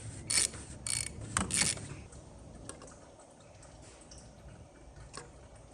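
A car's oil filter cover comes off with a quick burst of loud plastic clicks and clacks over about two seconds, then faint scattered ticks in a quiet setting.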